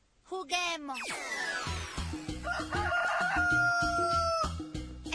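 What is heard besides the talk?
rooster crowing in a cartoon guessing game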